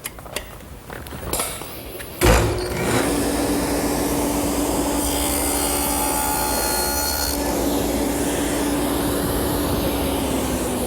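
A table saw starts up with a sharp thump and runs into a steady, loud whirring hum as it cuts a sample piece, continuing evenly with no voices.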